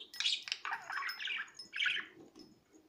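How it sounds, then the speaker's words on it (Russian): A pet budgerigar chirps and squawks in a quick run of bright, close calls, with short twittering bursts and a louder squawk near the end, with no voices. "Очень веселый попугайчик."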